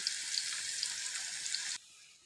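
Chopped onions frying in hot oil for a Bengali small river fish bhuna curry, a steady bright sizzle that holds loud and close, then drops off abruptly to a faint hiss.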